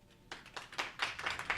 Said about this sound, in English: So the audience is going to vote by clapping.